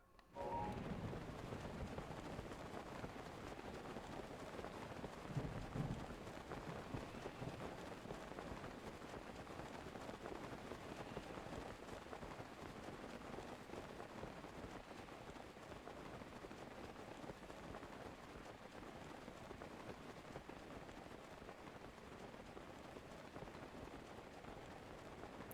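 Rain falling in the video game The Legend of Zelda: Breath of the Wild, a faint, steady hiss of rainfall with a soft patter, continuous and even throughout.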